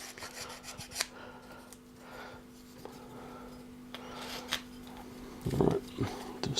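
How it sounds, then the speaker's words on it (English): Hand rasp filing a workpiece in a tool maintenance session, giving soft intermittent scraping strokes at close range, with a steady electrical hum underneath and a brief louder burst of rubbing near the end. "bear in mind I'm using a rasp that I've never used before."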